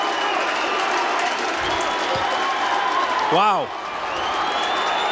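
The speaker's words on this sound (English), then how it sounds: "And the crowd erupts." A lacrosse crowd at a 1989 Syracuse versus UMass game bursts into applause and cheering after a goal, a dense roar sustained throughout, with a commentator talking over it and a brief exclamation.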